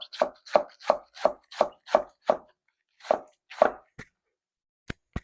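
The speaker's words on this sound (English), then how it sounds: "And then cut it thin. Nice shredded lettuce to go on your burger." A knife thinly shreds half a head of lettuce for burgers, making about ten crisp, evenly paced chopping thuds on a board, then a pause and a few sparse lighter taps.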